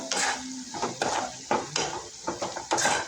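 Chilli powder and browned onion for egg bhurji are stirred in hot oil in a pan, with soft sizzling under repeated scraping strokes of a spoon against the metal, close and rhythmic.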